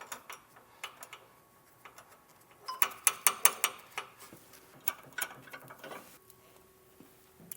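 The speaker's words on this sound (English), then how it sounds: "I'll take a nut and secure it on all 4 of our bolts." A hand ratchet tightens nuts onto four bolts while mounting Firestone Ride-Rite air bags on a 2022 Ford pickup, giving close, crisp clicking in short rapid bursts with pauses between them.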